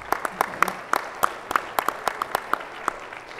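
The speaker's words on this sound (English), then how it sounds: "So let's give him applause." Sparse, scattered clapping from a small audience at a medical association's inaugural address, individual sharp claps spaced irregularly, quiet and without a crowd roar.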